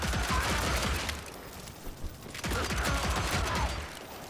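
Gunfire in the video game Evil West comes as rapid, loud bursts of shots. They pause briefly in the middle and then resume, with no speech.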